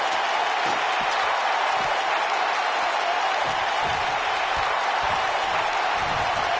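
A sold-out arena crowd in a PS4 wrestling video game applauds and roars in a loud, steady, dense wash of noise that continues throughout with no clear breaks.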